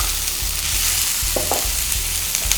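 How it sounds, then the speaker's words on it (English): Chopped onions sizzle in olive oil in a pan for a creamy tomato basil sauce, a steady close frying hiss with a few soft stirring knocks and low thumps, no voices. "into a pan, I'm going to add in the olive oil, add in the chopped onions"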